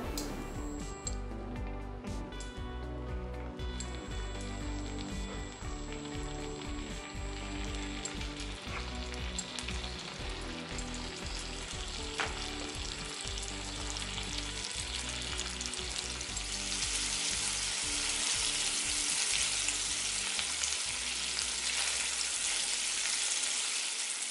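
Scallops searing in butter in a hot pan, a continuous crackling sizzle that grows louder and denser over time, close and steady with occasional faint ticks and no talk.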